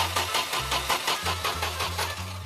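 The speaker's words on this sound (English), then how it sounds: "Go ahead, start it up." An old fire truck left for decades in the woods cranks and catches, its engine sputtering and turning over in an uneven, pulsing rhythm, loud and close throughout with no talk.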